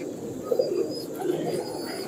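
A pigeon coos softly and close, two short low burbling calls rising out of a quiet, hissy background.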